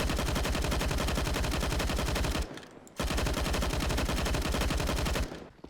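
Two long, rapid bursts of P90 submachine gun fire in the game CSGO, each rattling continuously for over two seconds with a brief pause between them.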